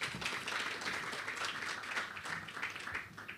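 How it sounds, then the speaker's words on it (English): Applause from a conference audience greeting a speaker at a G20 energy transitions event, a short dense burst of clapping heard from a distance, fairly faint. "Please, a round of applause."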